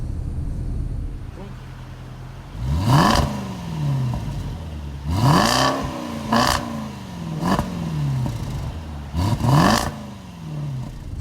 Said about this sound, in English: bubbling, whatever it's called, from the exhaust.